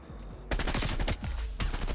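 A Groza rifle fires in Call of Duty Black Ops Cold War: a rapid automatic burst of close, loud shots that continues without pause across two seconds after a brief quieter opening.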